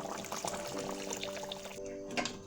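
Rinse water from a coconut grinding stone poured into a simmering curry, a steady trickling splash with a faint tonal hum running beneath it, easing off near the end.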